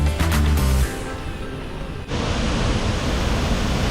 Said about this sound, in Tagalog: This is Tagumata Falls.